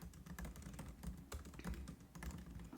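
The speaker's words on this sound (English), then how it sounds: "please hold while I type this out." Quiet, steady tapping on a computer keyboard, with irregular clusters of key clicks close by and no voices.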